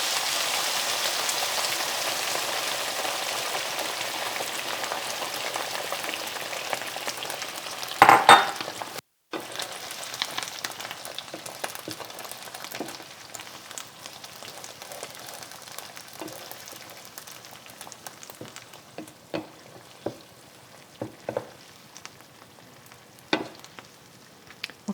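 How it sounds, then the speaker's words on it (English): Sausage goulash with tomato paste frying in a pan, giving a steady close sizzle that fades gradually over the span, with a few clinks and stirring sounds partway through. "I let this fry for a moment all together with the tomato paste"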